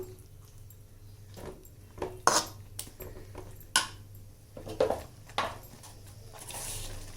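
A spoon scrapes and clinks around inside a pot of simmering curry leaf and garlic kuzhambu in short irregular bursts, over a steady low hum, with soft wet squishing between strokes.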